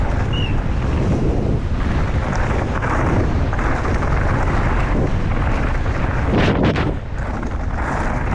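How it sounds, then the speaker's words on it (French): Steady, heavy wind buffeting the microphone on a mountain bike enduro, a constant low roar with gusts swelling and easing throughout. "On va faire attention au vent."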